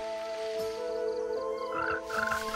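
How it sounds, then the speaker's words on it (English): Large tree frog croaking in a dense bamboo forest in China, a steady layered chorus of repeated croaks heard up close and alone, with brief chirping calls rising higher near the end. "A large tree frog feels the approach of spring."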